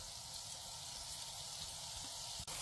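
Chopped onion sizzles in a pan of melted butter and oil, a steady close crackling hiss with small pops, continuing evenly throughout with a brief clatter near the end.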